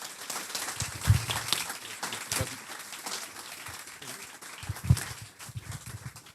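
Audience applause at a French corporate New Year's greetings reception: dense, moderately loud clapping from a crowd, continuing throughout with voices murmuring underneath.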